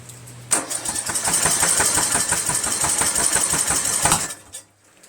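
A Briggs & Stratton 17.5HP engine on a Craftsman lawn tractor, choke off and throttle low, turns over with a loud, close, rhythmic chugging for about four seconds, then dies away into quiet; the engine has been failing to start.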